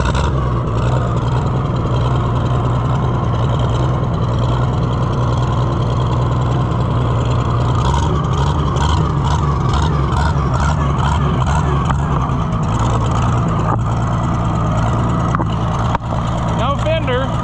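An old Oliver Super 77 tractor pulled from a junkyard runs on its first drive in over twenty years, its engine a steady loud low chug throughout, with someone talking over it.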